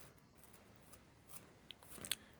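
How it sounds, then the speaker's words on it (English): Scissors cutting through fabric for a ball gown dress, with quiet, soft snips and rustling building to a few sharper crisp cuts near the end, faint and close with no talk. "here I've gone ahead to cut it out on my fabric"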